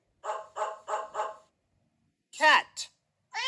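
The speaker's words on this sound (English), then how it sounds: "Dog." A dog gives four evenly spaced, close barks in a quick rhythm, then falls silent before a couple of brief, different animal calls.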